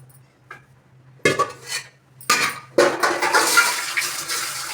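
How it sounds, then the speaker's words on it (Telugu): Dishes and utensils being washed at a home kitchen sink, with running tap water and clinking pots, plates and spoons in bursts that grow into continuous splashing and clattering, close by. "అన్ని సామాన్లు కడిగి స్టవ్ తుడుచుకొని పెట్టుకుంటే"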